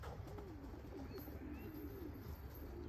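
Pigeons coo softly near their loft, low rolling calls repeating over a steady outdoor background hum, fairly close but quiet.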